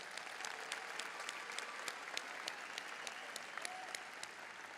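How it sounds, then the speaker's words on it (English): Applause at a high school graduation ceremony fills a large hall: steady, dense clapping from a big crowd, continuous and even throughout, heard from a distance. "Let's give all of our graduates a round of applause."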